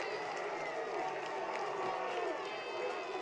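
Crowd at a varsity high school football game cheering and roaring in a continuous, even wash of voices from a distance, with no breaks or peaks.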